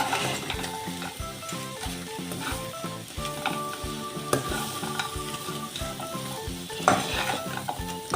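Taro pieces are stirred into an onion-chili masala frying in a pan. A loud close sizzle runs under rhythmic spoon scrapes and clinks against the pan, with no voices.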